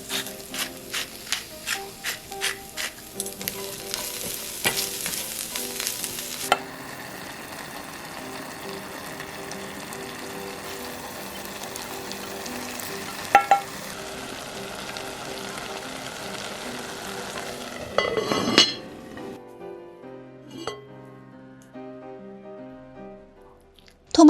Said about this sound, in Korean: 끓고 있는 동안에 양배추를 볶아주세요